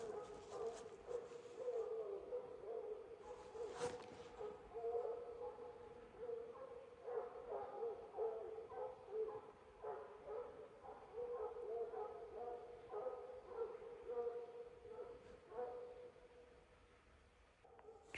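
Hunting hounds bay at a treed animal during a night coon hunt, a steady chorus of barks and howls carrying from a moderate distance through the whole stretch, with occasional human talk nearby.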